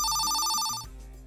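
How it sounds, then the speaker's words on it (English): Telephone bell rings in a quick electric trill that cuts off after under a second, leaving a faint hum. "The phone is ringing."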